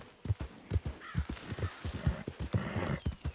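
Hooves of a Tennessee Walker horse in the video game Red Dead Redemption II clop in a steady, even walking rhythm, close and clear with no talking.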